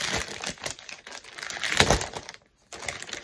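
Sheets of paper and paper templates being handled, rustled and crinkled up close in a sequence of crisp bursts with a brief pause near the end.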